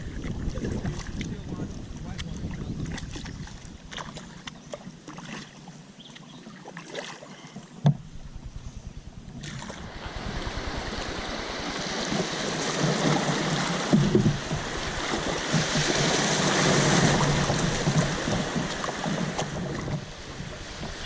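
Kayak moving through the last rapids of the Cape Fear River, with steady rushing water, wind buffeting the microphone and splashing that swells louder in the second half.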